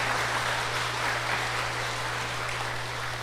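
A church congregation at a Korean Methodist Sunday service applauds in a steady wash of clapping, with a low hum underneath.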